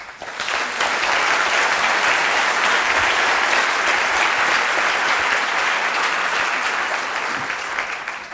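An audience claps loudly and steadily for several seconds, a dense wash of applause that swells quickly and eases off slightly at the end.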